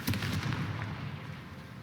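The Confringo fire spell in the Hogwarts Legacy video game lets off a muffled burst of explosive crackling right at the start, then a rumbling tail that fades over the following second or so.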